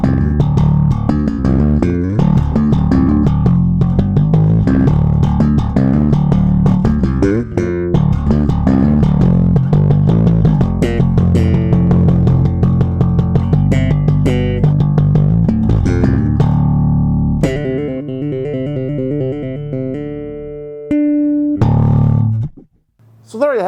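Electric bass played through a Markbass S.T.U. Amp 1000 with solid-state and tube sides blended, a loud, rocking run of punchy plucked notes ending in sparser sustained tones and a brief gap.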